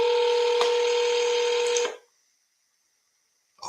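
A phone line tone sounds steadily while calls are placed to sales leads, then cuts off into near silence before a short burst of sound at the end.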